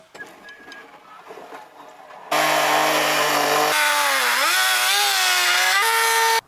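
A chainsaw mills lumber from an oak log: after a quiet lead-in, the engine roars loud and close, holding a steady high whine that dips and rises with the load until the cut ends.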